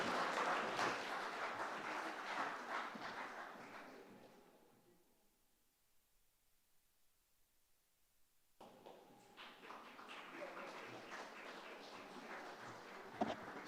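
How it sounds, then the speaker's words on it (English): Audience applause at a Women's Day celebration: a crowd claps steadily, fades to near silence midway, then rises again into renewed clapping, all at a modest, distant level. "A round of applause."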